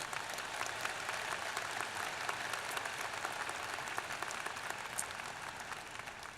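A commencement audience applauds the graduate school and library deans with dense, steady clapping throughout, moderately distant and evenly sustained with no talk over it.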